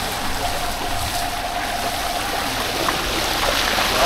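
Floodwater in a flooded barrio in Calumpit flows steadily, giving a continuous rushing, gurgling wash that is fairly loud and even throughout, with no voices.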